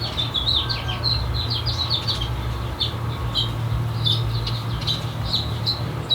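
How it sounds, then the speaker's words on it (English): Birds chirp and tweet in a lush, green garden in Mexico, their repeated bright calls scattered steadily over a constant low hum of background noise, with no one talking. "Been listening to the birds all day"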